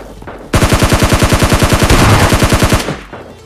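Rapid automatic gunfire in a mobile battle royale fight, a loud sustained burst of evenly spaced shots lasting about two seconds, close and alone with no talking.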